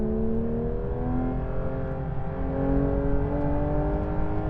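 Porsche 911 GT3 RS 992 engine pulling hard on a racetrack, a loud, steady rising drone with clear climbing harmonics held for several seconds, close and continuous without pauses.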